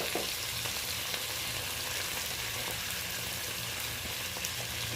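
Crabs, onion and a half spoon of turmeric powder sizzle in a pan while being stirred, giving a constant close crackling hiss with faint scraping touches throughout.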